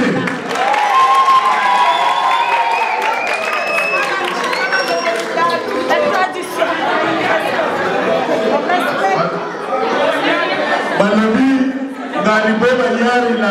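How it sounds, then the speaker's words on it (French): Loud crowd of children and adults cheers, shouts and claps continuously at a twins' birthday party, with lively chatter and voices throughout. "Applaudissez."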